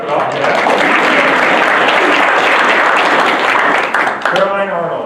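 Audience clapping steadily at a school board meeting as students come up for certificates, dense and sustained throughout, with voices breaking through near the end.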